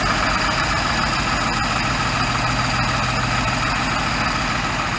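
A 4.3-litre OMC Cobra engine in a 1990 Four Winns 180 Horizon boat idles steadily at lowered RPM, a continuous close, loud low rumble with no break over the whole stretch.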